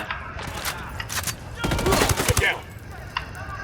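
Gunfire in Ghost Recon Wildlands, a close burst of rapid shots and sharp reports mixed with game sounds, with brief speech around it.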